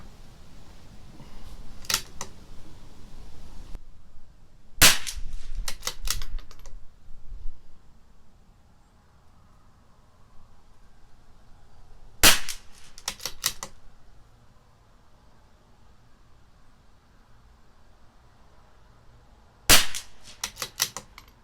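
A CZ 457 LRP rifle with an IBI barrel, shooting SK Long Range Match ammunition, fires a 5-shot group: sharp, loud single reports spaced several seconds apart, with quiet gaps and faint handling noise between them.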